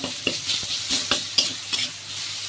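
Onion, garlic, chilli powder and salt frying in a pan, a bright close sizzle with quick rhythmic stirring scrapes punctuating it, loud and steady with no voices.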